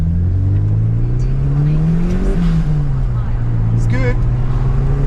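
A Porsche 944 engine pulls hard under load, its drone climbing steadily in pitch for a couple of seconds, dipping at a gear change, then rising again, loud and continuous from inside the car.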